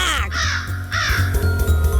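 A cartoon crow caws loudly and close, several harsh rasping calls in quick succession over a low steady background hum.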